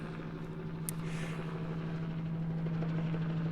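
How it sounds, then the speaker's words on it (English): A helicopter passing overhead, a steady low rotor drone holding throughout at moderate distance, with no talking over it. "Now we got a helicopter going over."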